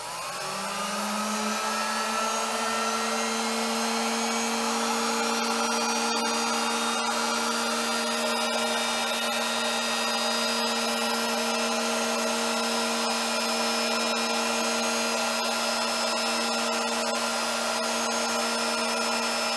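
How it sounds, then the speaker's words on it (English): A tool post grinder on a lathe spins up and dresses its grinding stone against a diamond held in the chuck, giving a loud, steady high whine that holds for the whole stretch, close and with no talking. "So I've put a diamond in the chuck, and we're going to go ahead and dress the stone"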